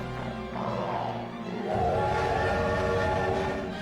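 A train horn in the video game Super Mario Galaxy 2 blares, then a rumbling train roars in and keeps going, loud and close, with a tone sustained above the rumble.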